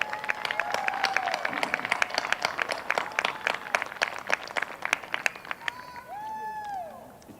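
A commencement ceremony crowd claps steadily for families, dense sustained applause that swells then thins toward the end, with a voice speaking over it.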